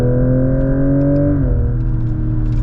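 Synthetic engine sound from a Genesis GV60 Magma electric car accelerating in a high gear, a loud, close, petrol-like drone that rises steadily in pitch, drops at a simulated gear change, then climbs again.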